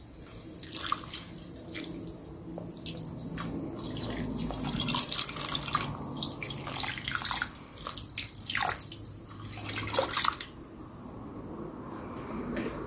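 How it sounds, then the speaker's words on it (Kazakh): About four litres of water are poured into a pot of peaches for jam, a continuous close splashing and gurgling stream that rises and falls for several seconds before settling into a lighter trickle. "Енді үстіне су құямыз. 4 литр су құямыз."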